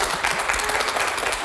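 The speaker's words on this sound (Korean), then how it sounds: "박수 부탁드립니다." Studio audience and guests clap for a participant who completed a medical procedure on a health program, a short, continuous burst of dense applause filling the whole moment.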